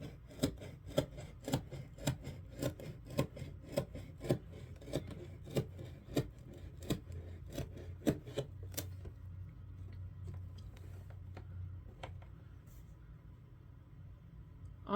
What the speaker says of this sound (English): and I'm getting the scissors.